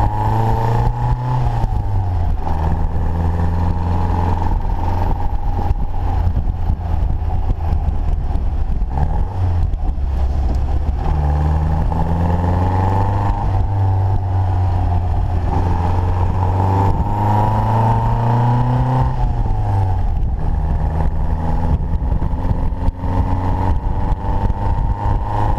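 A 1956 MGA sports car drives along, its engine droning loudly and continuously from inside, with pitch rising and falling through repeated gear changes.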